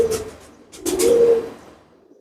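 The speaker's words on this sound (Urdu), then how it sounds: "یہ بڑے اچھے کبوتر ہیں جی" A Ferozpuri pigeon held in someone's hand gives a few soft, low coos up close, with a longer drawn-out coo in the middle and brief rustles around them, otherwise quiet.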